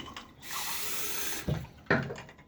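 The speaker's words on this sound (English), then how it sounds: "rinse off the handle because it's really slippery" A bathroom tap runs steadily over a shaving brush handle during a wet shave, a continuous splashing rush of water followed by two short clunks near the end.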